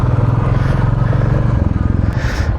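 A Royal Enfield Classic 350 motorcycle, about 20 horsepower, ridden on busy city roads: a steady, close, loud engine thump with road noise and no clear speech.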